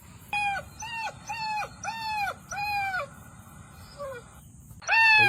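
Recorded puppy whimpers and yelps played back to lure a crocodile, a series of five rising-falling whines in steady rhythm, then a pause and another burst, over a low outdoor hum.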